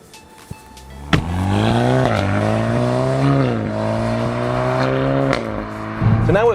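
A remapped 448 hp VW Golf R with a Stage 1 tune rumbles loudly up close, its engine note sliding up and down as the exhaust burbles. Sharp pops and crackles come at the start, in the middle and near the end.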